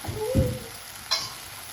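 Jowar khichdi with peas, moong dal and khichdi masala sizzles in a pot as a spoon stirs it, two quick scraping strokes over a soft steady hiss, close and with no talking.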